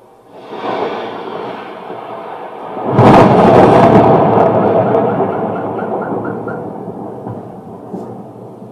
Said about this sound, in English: I'm going to play back some video I have of a recent thunderstorm.